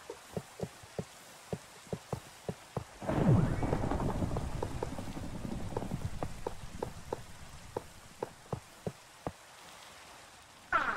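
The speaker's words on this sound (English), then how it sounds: "Well, thunderstorm." Thunderstorm in the Minecraft Create mod: a loud rumbling thunder roll swells and slowly fades over steady rain, with sharp rhythmic clicking or tapping sounds before and after it.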